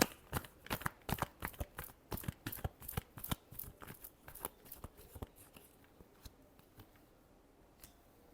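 Tarot cards are shuffled in a quick, close run of crisp flicks and riffles that gradually thin out and fade toward the end.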